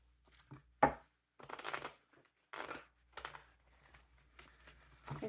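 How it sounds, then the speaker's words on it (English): Tarot cards are shuffled by hand in short, irregular bursts of riffling and slapping, close and quiet, separated by pauses. "2 more shuffles for the animals,"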